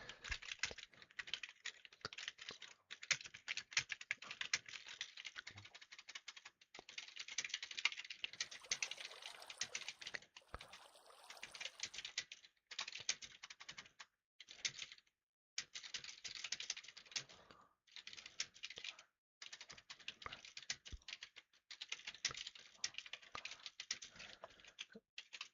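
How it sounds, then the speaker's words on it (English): Someone types on a computer keyboard with steady, fast, clattering keystrokes up close. Short pauses break the bursts while a Minecraft session is being played, and no one speaks. "Now I have to manually type it."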